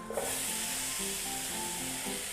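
Chopped onion hits hot butter in a pan for low-carb jambalaya, a loud steady sizzle that bursts up at once and continues evenly, alone.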